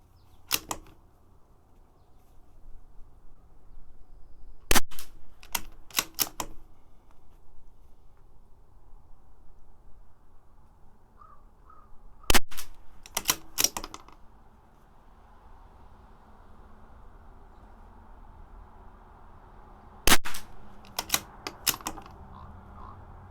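A CZ 457 rifle fires Lapua X-ACT rounds during an accuracy test, giving sharp, brief cracks in small clusters separated by long quiet pauses over a faint steady background hum.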